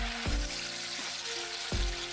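Chickpea batter frying in hot oil over a medium flame, a steady broadband sizzle with a couple of soft knocks as the batter goes in, close and alone.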